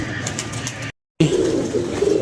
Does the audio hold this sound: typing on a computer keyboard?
no